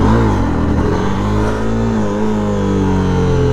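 A Honda motorcycle accelerates hard and pops a small wheelie, its engine note loud and close, rising in steady revs with no talk over it.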